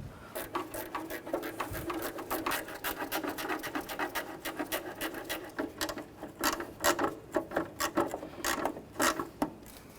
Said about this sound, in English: Use a 10mm socket. Take those out. Or even a 10mm ratchet wrench.